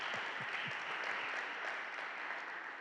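An audience claps steadily at an indoor commemorative day event, a dense, even applause sustained throughout with no talk over it.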